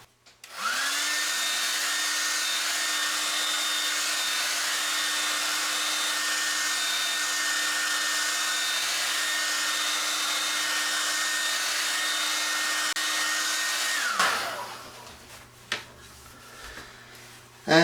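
A hair dryer dries a watercolor painting, switching on and holding a steady, loud whirring blow for about fourteen seconds before cutting off, followed by faint clatter and handling sounds.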